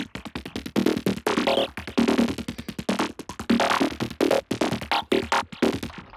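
Glitchy, driving psychedelic synth sequence from a Serum preset, a rapid stream of choppy, pulsing notes with stuttering gaps and shifting tones, loud and playing alone throughout.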